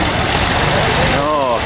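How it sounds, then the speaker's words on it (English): Tractor engine running as tractors move out at an agricultural show, a loud continuous mid-pitched engine drone with steady idling texture, close by and filling the whole stretch. "Right, so we're moving the tractors out."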